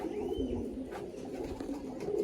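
Pigeons coo softly and continuously in a loft in South 24 Parganas, with a low murmuring drone and a faint higher call, close by, no speech.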